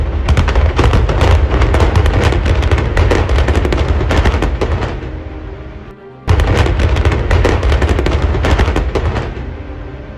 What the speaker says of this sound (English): Bringing down 6 buildings simultaneously in approximately 20 seconds requires the detonation system to be synchronized with extreme precision.